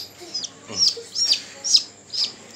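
A newly hatched chick cheeps from an incubator egg, its high, sharp peeps repeating in a steady rhythm of about five calls, close and fairly loud over a low background hum.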